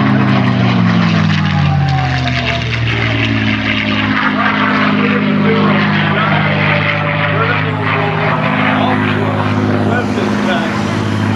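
P-51 Mustang flying aerobatics at the 2024 EAA airshow, its piston engine droning loud and steady, rising and falling in pitch as it maneuvers, with a commentator talking over it.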